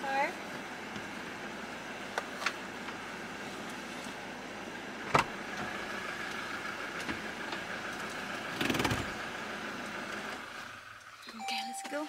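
A car engine idles at a low, steady rumble in the background for about ten seconds before cutting off, with a few clicks and bumps over it and people talking nearby.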